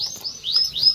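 A canary gives a few quick, high chirps in close succession, near and fairly clear against a quiet background.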